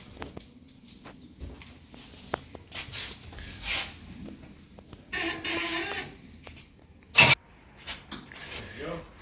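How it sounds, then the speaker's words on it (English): A 1968 Pontiac Firebird's engine is cranked in several short bursts of starter whir, the last briefly catching, with quiet clicks and handling sounds between attempts. "we'll see if she cranks over"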